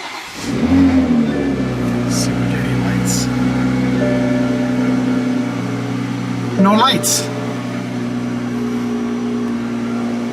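A Toyota A90/A91 Supra engine turns over and settles into a steady, fairly loud idle that runs on, while someone talks briefly over it.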